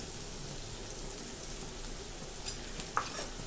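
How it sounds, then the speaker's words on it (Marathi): Chopped onion with a garlic and green chili paste sautéing in a pan, a faint, even frying hiss that runs throughout, with one small clink near the end and no voices. "आणि हे छान मस्त परतून घ्यायचंय"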